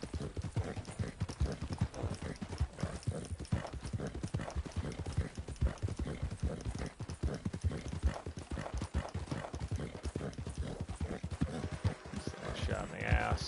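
Horse hooves clip-clop at a steady, quick pace throughout a ride in Red Dead Redemption 2 Online, with a voice talking over the hoofbeats.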